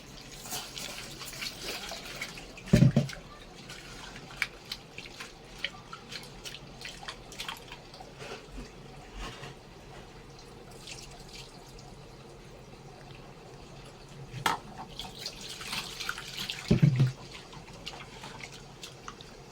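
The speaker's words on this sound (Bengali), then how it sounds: "ডাল আছে এটা ধুয়ে নেবো ভালো করে" Lentils being washed under a running kitchen tap, a continuous soft water flow with a few louder splashes and clunks near the start and end, no talk.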